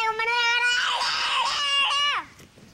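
A young child screams and wails at a zoo, a loud, sustained high-pitched cry with shifting pitch lasting about two seconds before cutting off.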